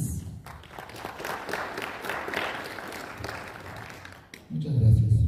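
Applause from an audience at an informational talk on a continuity scholarship, scattered clapping that rises and holds through most of the stretch, then cuts off as a louder low thump takes over at the end.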